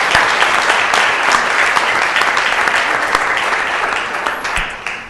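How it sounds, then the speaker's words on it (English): An audience in a city council chamber applauds award recipients. Loud, dense applause continues steadily for about five seconds, easing slightly at the end. "One more time, let's give them a round of applause."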